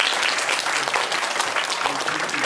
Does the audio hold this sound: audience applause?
yes